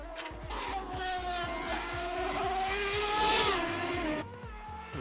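A 1993 McLaren MP4/8 Formula 1 car engine in the racing game Assetto Corsa screams at high revs, pitch rising and dropping through rapid gear shifts, loud and close with a steady roar throughout.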